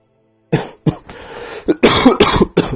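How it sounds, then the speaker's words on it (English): A series of sharp, close coughs, several harsh bursts in quick succession with a brief raspy throat sound between them. "Cough, cough."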